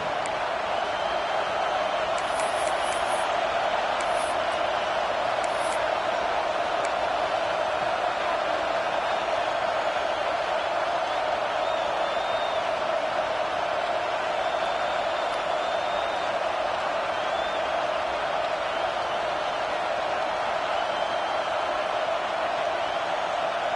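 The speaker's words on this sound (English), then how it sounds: "This crowd trying to do its part to get inside the kicker's head." A stadium crowd roars steadily at a college football video game as the kicker lines up on fourth down, a sustained, even wash of crowd noise with faint scattered whistles and cheers.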